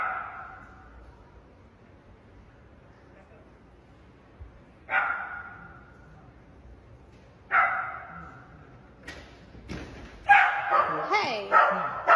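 A dog barks in an apartment, three separate single woofs spaced a few seconds apart, then a denser cluster of barks and yips near the end, fairly close against a quiet room.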